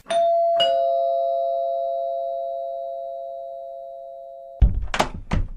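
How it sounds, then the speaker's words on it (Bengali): A two-tone electronic doorbell chime rings once, the tone holding and slowly fading, followed by a couple of sharp knocks or thuds. "গিয়ে কলিং বেলটা টিপল।"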